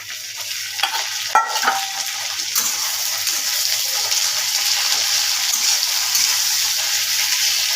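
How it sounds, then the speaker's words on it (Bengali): Onion, chili and tomato frying in a pan, a loud continuous close sizzle with a few stirring clicks near the start. "লাল লাল করে ভেজে নেব"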